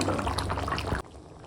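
Chicken curry gravy with new potatoes bubbling in a pot, giving a close, wet, churning liquid sound for about a second before it cuts off to near quiet.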